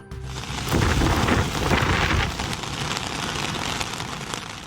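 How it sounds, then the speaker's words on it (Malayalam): Heavy rain driven by strong wind pours down in Qatar during a thunderstorm, a dense steady roar with a rumbling surge of thunder in the first seconds, loud and continuous throughout. "ഖത്തറിൽ ശക്തമായ കാറ്റോട് കൂടിയുള്ള കനത്ത മഴ തുടരുന്നു"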